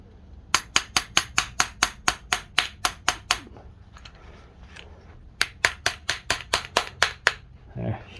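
A screwdriver taps a carburetor bowl on a cold Yard Machine snowblower to knock it loose: two runs of sharp, evenly spaced metallic knocks, about a dozen and then nine, close and loud with a short pause between.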